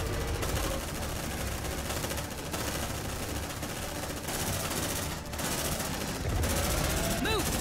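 Sustained automatic gunfire rattles through a firefight in the sci-fi game Aliens: Dark Descent, dense bursts repeating with brief gaps, loud and close, with shouted voices breaking in near the end.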